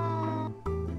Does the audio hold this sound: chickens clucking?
no